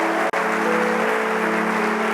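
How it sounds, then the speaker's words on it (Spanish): A church congregation applauding during a sermon, with steady, dense clapping that fills the room over sustained musical tones. "Denle un aplauso al Señor."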